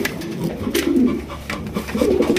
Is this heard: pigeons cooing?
yes